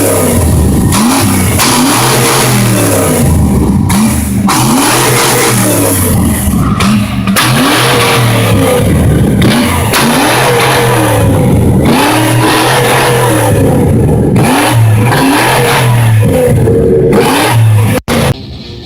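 A modified Ford F-150 fitted with a fire-shooting exhaust revs repeatedly in loud, rhythmic bursts. The engine climbs and drops in steady cycles for nearly the whole stretch, close by and with no talking.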